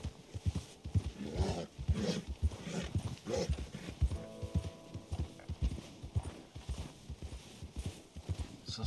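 Horse hooves in Red Dead Redemption 2 give a steady clip-clop of repeated beats, close and fairly quiet, with a brief neigh-like tone midway.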